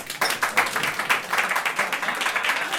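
A stand-up comedy audience applauds with steady, dense clapping that fills the room, loud and continuous, with no one speaking over it.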